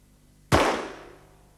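A single sharp pistol shot in the Mastertronic shooting game Ricochet: one close, crisp crack with a fast attack, then a decaying ring, alone with no talking.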